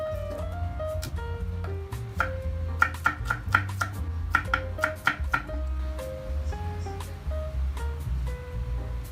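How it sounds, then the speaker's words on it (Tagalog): Ginger, onion and garlic chopped with a knife on a board for a mung bean dish, a burst of close sharp rapid knocks in the middle amid softer scraping. "Maghiwa lang ng luya. Mag-chop na din ng onion at garlic."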